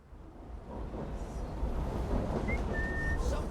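A character whistles in Assassin's Creed Syndicate during a factory infiltration. The short, thin whistle is faint and sits over a steady low rumble of ambient game noise.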